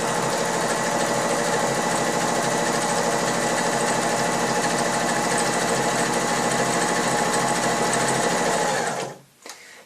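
A home sewing machine stitches a decorative scalloped edge of the kind used on napkins and handkerchiefs, a loud, steady rapid whirring drone running nonstop for about nine seconds before stopping abruptly.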